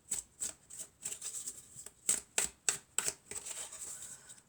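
Oracle cards being shuffled by hand, a quick run of crisp riffling slaps and soft papery flutters close up with no voice.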